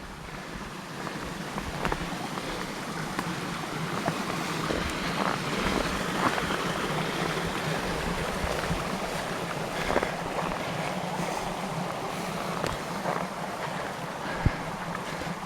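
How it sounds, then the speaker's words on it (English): Running river water beside a canoe portage trail in Northern Ontario, a steady, dense rushing wash that holds at an even level throughout, with no voices over it. "You can hear the running water here."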